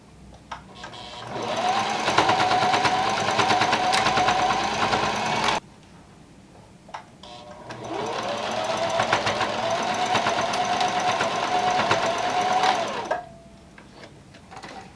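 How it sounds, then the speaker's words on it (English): Sewing machine stitching a straight line through the pleats of a fabric face mask, two close, steady whirring runs with rapid needle chatter, separated by a short pause with faint clicks. "we're going to sew a line straight down just on the side through these pleats to hold them"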